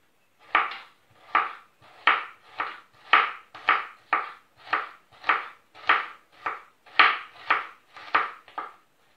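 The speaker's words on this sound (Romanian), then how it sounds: "am să încep cu ceapa și am să tăi o bucățică ca să o pun cu sare" A knife chops onion on a cutting board in about sixteen crisp, evenly spaced strokes, close and fairly quiet, with no talk over them.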